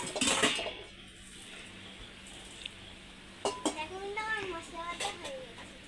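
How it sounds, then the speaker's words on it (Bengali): A metal kadai set down on a home kitchen stove, a brief clank of cookware early on, then quieter kitchen clatter while an adult and someone talk. "আমি এখন কড়াই বসিয়ে দিলাম।"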